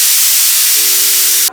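A pressure cooker holding pork vents steam in a loud, steady hiss very close by that cuts off sharply at the end.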